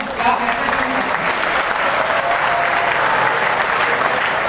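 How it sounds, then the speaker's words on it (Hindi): Loud, sustained applause from a school audience gathered for a stress-free education event, dense clapping filling the hall evenly throughout. "एक बार जोरदार अपने जज्बे के लिए ताली बजाओ"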